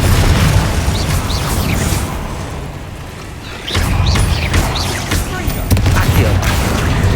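Confringo fire-blast spell explosions in the video game Hogwarts Legacy, heavy booms and bursts layered over a loud, continuous rumble of combat, with a voice speaking through it.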